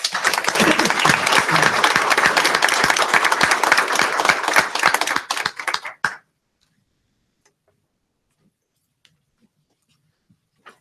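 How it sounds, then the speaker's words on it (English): An audience at a school board of education meeting gives a round of applause, dense clapping for about six seconds that stops abruptly, followed by near silence with a few faint knocks. "let's give Lilia a round of applause"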